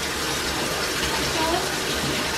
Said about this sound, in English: she's running her bath water.